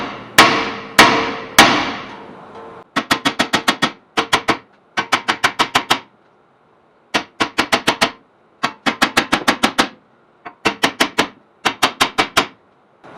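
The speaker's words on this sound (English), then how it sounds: "we're going to get a big old hammer, hit it right up here, try to work this out" Heavy hammer blows strike the corroded rear wheel hub of a 2010 Ford Taurus, loud metallic bangs coming in quick bursts of three to six hits with short pauses between, close and unaccompanied by talk.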